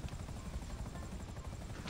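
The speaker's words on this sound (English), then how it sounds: "He's got three helicopters after him." A helicopter in the GTA 5 video game thrums with a steady, loud rotor chop and engine whine, close and continuous with no talking.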